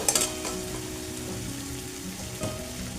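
Chopped tomatoes fry in a pan with a busy, steady sizzle and crackle, opened by a few sharp clatters and marked by another knock partway through, with no talking.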